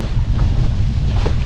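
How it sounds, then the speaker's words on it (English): A gust of wind roars in steady, heavy buffets across the microphone while windsurfing on the Solent, a loud low rumble with faint water wash underneath and no voices. "Yeah, there's the gust."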